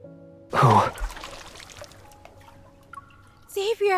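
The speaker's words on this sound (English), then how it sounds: "Water flows into the tub" Water pouring into a bathtub in a dark bathroom in the video game Love and Deepspace, a soft running trickle beneath louder vocal gasps and sustained musical tones.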